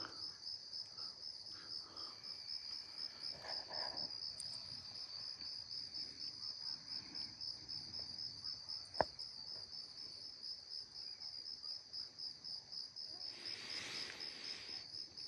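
Crickets chirp at night in a quiet outdoor setting, a continuous high pulsing trill holding steady in the background, with a few faint soft knocks and a brief click partway through.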